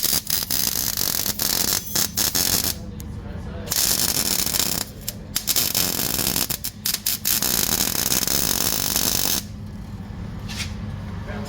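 Welding on a dune buggy car in the Glamis sand dunes: harsh, steady crackling hiss in long bursts, broken by a few short pauses, close and fairly loud.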